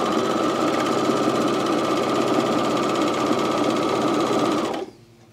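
A coverstitch machine runs steadily, hemming a camisole in one loud, unbroken mechanical whir with a fast rhythmic chatter, then stops abruptly near the end.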